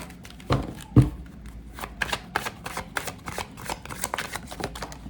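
Tarot deck being shuffled by hand, a run of quick crisp card riffles and flicks with a couple of sharper slaps, close and fairly quiet, no talking.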